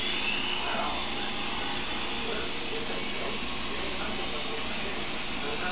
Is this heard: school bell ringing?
no